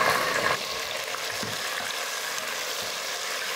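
Onions and tomato sauté in a pan for soy biryani, a steady close hiss of frying with a few soft stirring scrapes underneath, no voices.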